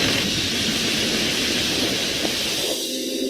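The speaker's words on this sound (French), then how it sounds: "les premières gouttes d'eau se transforment vite en pluie torrentielle" Torrential rain pours down as the dry season ends, a dense steady hiss of heavy rainfall with a low rumbling undertone, close and continuous throughout.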